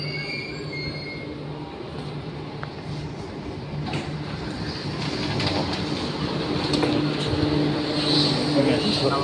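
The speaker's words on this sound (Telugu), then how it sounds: "నేను ఎక్కాల్సిన ట్రైన్ కూడా వచ్చేసింది." A metro train pulls into a busy station, its wheels squealing and rumbling steadily louder over several seconds amid crowd noise on the platform.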